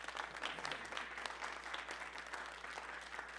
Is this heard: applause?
yes